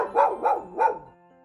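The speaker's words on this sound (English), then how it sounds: "Dog." A dog gives three quick, evenly spaced barks, close and clear, with nothing else around them.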